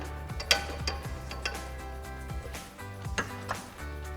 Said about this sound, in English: then we can start to raise up on our pull jack, slide our bracket into place.